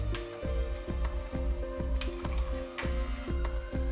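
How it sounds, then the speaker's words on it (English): A Canon MAXIFY GX5000-series ink tank printer closing its internal ink valve before shutting off, giving a steady run of close, regular mechanical clicks and whirs at an even rhythm, with no voices. "This model closes the ink valve inside the printer automatically and then turns off."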